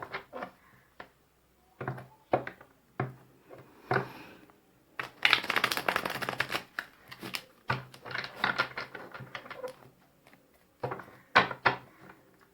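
Tarot cards handled at close range: sharp taps and slaps of cards set down, a long rustling shuffle in the middle, then more crisp card drops, all fairly quiet with no talk.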